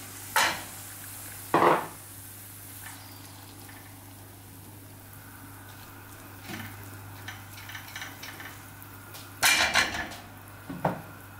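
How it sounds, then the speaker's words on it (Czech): Sauerkraut tipped from a container into a pan onto lightly browned fried onion, a few sharp clattering knocks and scrapes of dish and utensil over a low steady kitchen hum, close by. "tak na osmaženou cibulku lehce do hněda si vyklopím to zelí"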